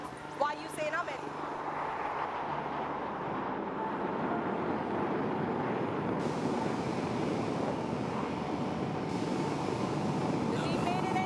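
Suryakiran aerobatic team jets fly a formation pass at the Aero India air show, a broad, steady roar that fills the clip under heavy wind noise, with a commentator speaking over it.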